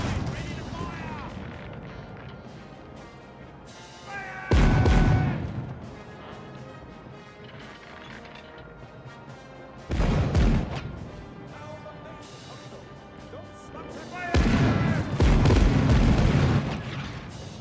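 A sailing ship's left-side cannons fire a broadside in the pirate game Caribbean Legend: three heavy, booming blasts several seconds apart, each with a rumbling tail, over ambient game sound and a talking voice.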